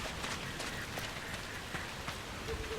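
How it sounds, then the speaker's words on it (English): Steady rain pattering on surfaces in the video game Dragon Age: Inquisition, a dense even hiss with scattered droplet taps, fairly quiet and continuous. "With all this fucking rain."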